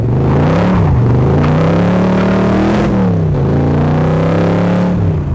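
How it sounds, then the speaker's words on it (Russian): An AC Cobra V8 exhaust rumbles loud and close while the car is driven on a summer evening. The deep throb rises and dips through gear changes and throttle, continuous with no voices. "Звук выхлопа здесь — это отдельный разговор, это симфония V8, это один из лучших звуков, которые я слышал и чувствовал"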